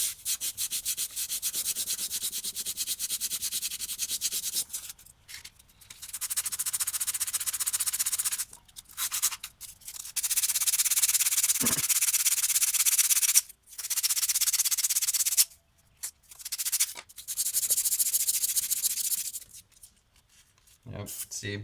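Sanding block scraping back and forth over a wooden diorama accent piece, long steady rasping strokes broken by short pauses, close and prominent, with a person talking between and over the passes.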